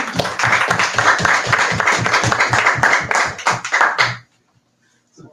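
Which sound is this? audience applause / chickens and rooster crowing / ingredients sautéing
audience applause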